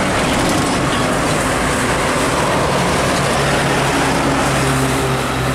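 A Hino Ranger truck loaded with cement passes on the busy Pantura road in Brebes; a loud, steady, close roar of engine and rolling tyres fills the whole stretch, with no talking.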